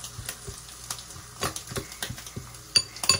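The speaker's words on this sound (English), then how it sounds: "mix it around so it's like all of the mix is like wet" Oatmeal mix and almond milk stirred with a utensil, soft scraping and clinking strokes against the bowl repeating close by, with a few sharper knocks near the end.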